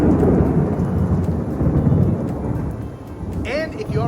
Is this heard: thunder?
yes